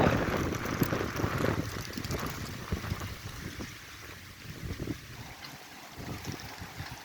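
Strong wind gusting through the streets of Barnaul in autumn, rumbling against the microphone in uneven buffets that swell and ease, with no talk.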